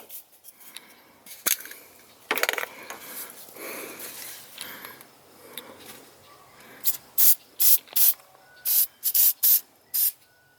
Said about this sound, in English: all you do is you spray it right onto the terminal